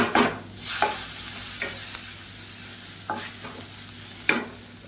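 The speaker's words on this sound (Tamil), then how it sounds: "சேர்த்துட்டு லேசாக வதக்கி விட்டுக்கலாம்" Rasam powder and dried red chilies being sautéed in a pan make a low, continuous frying hiss, while several sharp spoon scrapes cut through at irregular moments, close up, with no voices.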